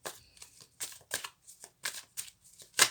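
Tarot cards shuffled by hand, quick crisp riffling bursts in an uneven rhythm, close and fairly quiet.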